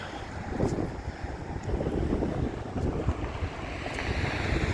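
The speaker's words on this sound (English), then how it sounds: "I really hope the wind isn't messing up this video too much. It's pretty breezy out." Breezy outdoor wind on a downtown Grafton, Wisconsin street buffets the microphone in steady gusty rumbles, rising and falling throughout with no talking.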